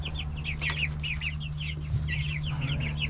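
Young Cornish Cross meat chickens in a farm nursery coop give soft, high chirping clucks in quick repeated bursts throughout, close by, over a steady low mechanical hum.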